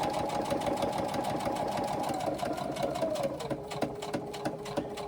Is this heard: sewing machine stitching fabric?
yes